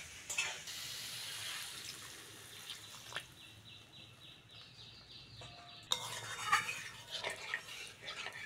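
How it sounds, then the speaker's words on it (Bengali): Water runs and splashes into a pan of fried spice paste, a faint trickle at first, then a sharper burst with light metallic clinks near the end. "এবার জল দিয়ে দেবো।"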